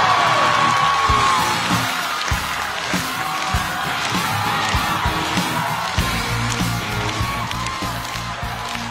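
A live studio audience at a stand-up comedy show applauds, cheers and whoops loudly as a comedian walks on stage. A continuous roar of clapping and yells gradually settles while music plays underneath.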